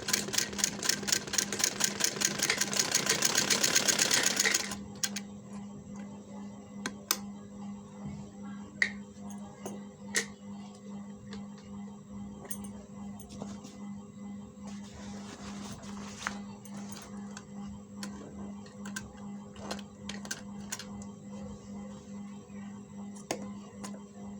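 A sewing machine rapidly stitching along the edge of a garment's neckline, a fast, dense mechanical whir for about five seconds before it stops, followed by quiet with faint clicks and taps.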